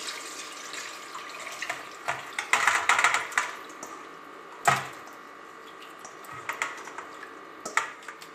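Vinegar poured off marinated fish, trickling and splashing into a sink in irregular close bursts with a few sharp drips, no talking.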